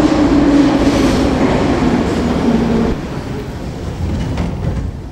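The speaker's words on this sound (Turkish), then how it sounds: "O mana metro ovozi eshitilyapti." A metro train rolls into an underground station, a loud steady rumble of wheels on rail with a faint squeal of brakes that eases off partway as the train slows.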